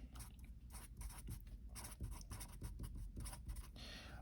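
A pen scratches across paper as notes are written by hand, a faint, close scratching made of short, irregular strokes that runs throughout.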